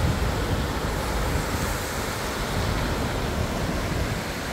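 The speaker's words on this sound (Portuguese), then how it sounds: "Olha só como é que movimenta a água ali, ó." The flooded Itajaí Mirim river overflowing in Brusque, Santa Catarina, rushes past as a steady, dense roar of moving water, loud and unbroken throughout with no voices.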